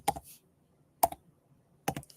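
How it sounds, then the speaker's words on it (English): Computer keyboard typing in a quiet room, three short separate bursts of quick clicks spaced about a second apart, close and fairly soft. "I'm just typing it wrong here."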